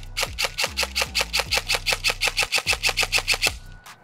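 Specna Arms airsoft AEG rifle firing a rapid, steady burst of about twenty shots, each with a sharp mechanical clack and motor whir, loud and close, stopping abruptly as the magazine runs empty.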